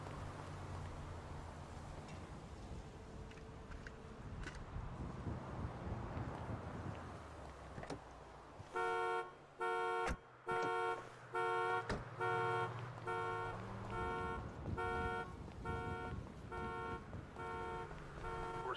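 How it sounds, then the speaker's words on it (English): A car alarm in the game GTA blares in a rapid repeating honking pattern in the second half, preceded by engine rumble and wind noise. "Wait for the stupid fucking alarm to stop."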